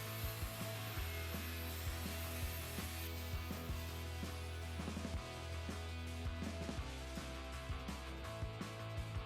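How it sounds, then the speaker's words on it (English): A polisher fitted with a crimped bevel wire brush scrubs rust off a metal window frame, giving a loud, continuous abrasive whir with hum and repeated scraping bursts as the brush moves over the metal. "Once I'd finished with the grinder, I then used a polisher with a crimp bevel brush."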